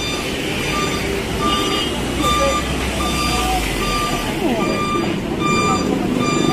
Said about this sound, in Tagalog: Ayun pala, kukunin patalikod yung sasakyan na ito